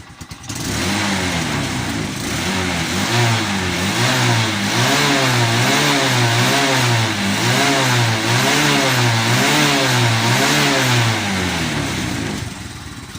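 A Bajaj CT 125 motorcycle engine with carbon buildup and a misfire revs hard and steadily, its loud, close drone rising and falling in regular waves for about twelve seconds before cutting back.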